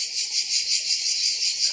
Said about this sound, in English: the crickets aren't going to stop